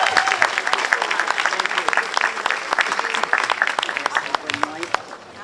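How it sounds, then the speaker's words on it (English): Audience applause for a councilwoman at a Portugal Day flag raising in Lowell, steady dense clapping from a crowd throughout, fading slightly at the end, with a voice briefly heard. "please give a warm round of applause to Councilwoman Rita Mercier"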